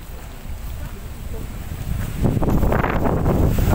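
Violent gusts above 110 km/h rush and buffet the microphone under a red storm alert in Loire-Atlantique. The roar grows noticeably stronger and louder after the first couple of seconds.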